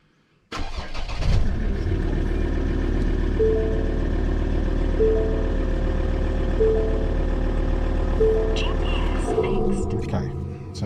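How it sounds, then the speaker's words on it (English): Ford car engine cranking and catching, then settling into a steady, loud low idle with a faint regular beeping on top before the engine cuts off near the end. "I'm just going to start the engine."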